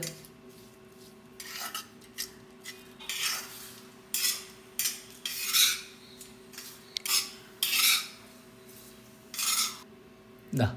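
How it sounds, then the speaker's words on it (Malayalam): Grated coconut, curry leaves and shallots roasting in a pan, heard as repeated scraping strokes of a utensil against the pan in an irregular rhythm, close and fairly quiet, with no talking. "തേങ്ങ ചിരവിയത്, കറിവേപ്പില, ചെറിയ ഉള്ളി അതെല്ലാം കൂടി നമുക്കൊന്ന് വറുത്തെടുക്കണം"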